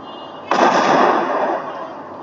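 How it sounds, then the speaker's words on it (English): A grenade explosion in the Max Payne video game bursts suddenly and loudly, then a broad rumbling blast decays over about a second and a half. "Okay, grenade time."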